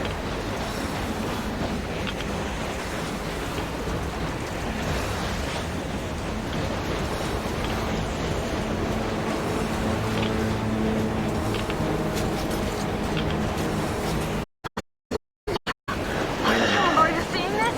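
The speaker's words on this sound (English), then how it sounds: "Now that's what I call a blizzard." A heavy blizzard wind roars across the frozen surface in the game Metro Exodus, a dense, steady rushing noise that stays loud and unbroken before briefly cutting out near the end.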